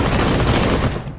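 Dual pistols firing in Counter-Strike, a rapid loud burst of gunshots blurring into a dense fusillade that cuts off abruptly near the end, with no speech.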